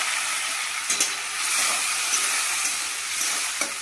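Ginger paste and tempering spices hit hot oil with a loud, continuous sizzle, broken by a few sharp clicks of a utensil against the pan.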